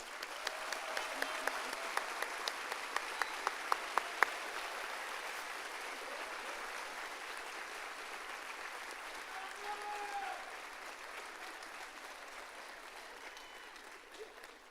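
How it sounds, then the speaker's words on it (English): Sustained applause from a large audience, a few sharp claps standing out at first, then a steady wash of clapping that slowly thins. "Now let's give them, everybody, a round of applause."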